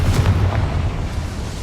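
Confringo fire spell blasting in Hogwarts Legacy inside a small goblin mine: a single loud, deep booming burst that rumbles on without fading much, no voices over it.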